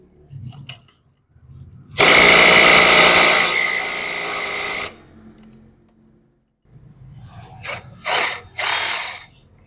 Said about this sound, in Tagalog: Gamit natin impact wrench. Baklasin na po natin.